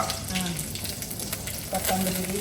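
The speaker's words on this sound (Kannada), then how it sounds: "ಸಾಸಿವೆ ಜೀರಿಗೆ ಕರಿಬೇವಿನ ಸೊಪ್ಪು ಕರಿಬೇವಿನ ಸೊಪ್ಪು ಚಟಪಟ ಚಟಪಟ" Mustard seeds, cumin and curry leaves splutter in hot oil with a close, steady crackling sizzle filling the short stretch, while a voice talks over it.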